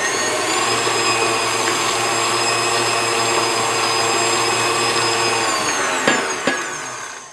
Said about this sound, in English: I have my butter in my stand mixer, so I'm just going to cream it.